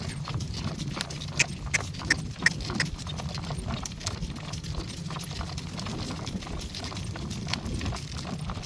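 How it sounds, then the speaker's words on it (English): Hooves of a horse pulling a light driving cart clip-clop in a steady trot on a quiet morning drive, the rhythmic beats moderately close over a constant rolling rumble of the cart. "now it's a lot more fun to just trot freely"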